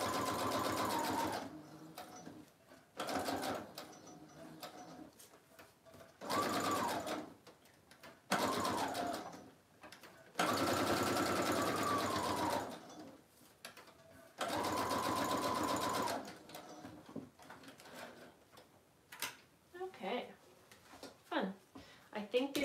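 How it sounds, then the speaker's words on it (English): A sewing machine stitches around the perimeter of a fabric tag for a travel journal, running in several bursts of steady whirring with pauses in between, with quiet sounds of handling between runs. "let me go ahead and just sew around the perimeter of this real quick"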